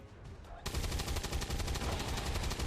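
Gunfire from XCOM 2 Long War 2 bursts in after a quiet start, a loud rapid volley of shots that keeps rattling for about two seconds with faint background voices.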